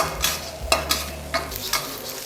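Fried rice with shrimp and eggs stir-fried in a pan, giving a steady oily sizzle broken by several sharp, rhythmic scrapes and tosses of the spatula, close and fairly loud with no voices.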